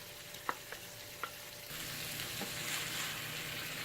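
Masala cauliflower with coriander and green chilies frying in a pan, a faint steady sizzle broken by a few sharp clinks and scrapes of stirring, then the sizzle swelling louder.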